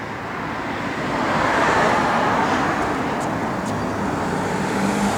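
A 1956 Ford Customline's engine runs at a steady idle outdoors, giving a continuous, fairly loud broadband rumble that swells slightly and then holds even, with no talking over it.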